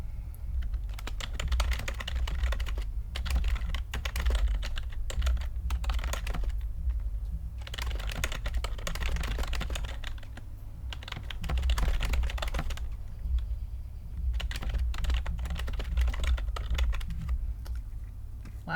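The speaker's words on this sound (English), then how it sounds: "you can probably hear the keyboard clacking way too much" Computer keyboard typing throughout, with dense bursts of clacking keys and brief pauses between runs, steady and close, with a low hum underneath.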